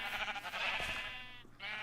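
Sheep in a farming video game bleat in a couple of quick, close wavering calls, fairly quiet with nothing else around them.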